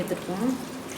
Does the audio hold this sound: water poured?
yes